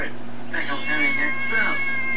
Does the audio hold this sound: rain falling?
no